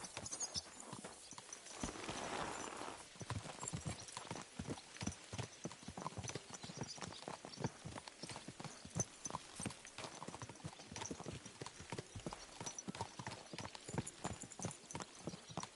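Several horses set off riding out together in Kingdom Come: Deliverance II, their hooves clip-clopping in a steady, overlapping rhythm that carries on throughout, close and fairly loud.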